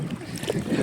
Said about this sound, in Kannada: ಮತ್ತೆ ನಮ್ಮ ಹಿಂದ್ಗಡೆ ಇನ್ನೊಂದು ಬೋಟ್ ಬರ್ತಿದೆ